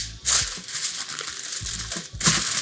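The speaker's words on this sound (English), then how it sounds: "And then cover it with foil." Aluminium foil crinkles and crumples while being pressed over a baking tray of parchment-covered steaks, with two louder bursts of rustling at the start and end and steady crackling between, close and alone.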